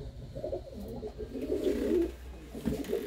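A Lal Cheena pigeon coos close by in a loft, a low rolling call that swells over about two seconds and then trails off into shorter murmurs.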